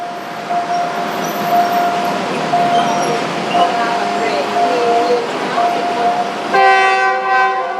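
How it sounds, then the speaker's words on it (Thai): A train rolls through a railway level crossing on Asoke–Din Daeng Road in Bangkok, with a steady rumble and road traffic noise and a loud horn blast near the end, while someone talks over it. "นั่นแหละฮะรถไฟมาแล้วนะฮะ"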